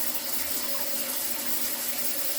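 Water runs steadily in a toilet tank during a flush in a leaking toilet repair, a continuous close hiss and splash of flowing water without pauses, with no one speaking.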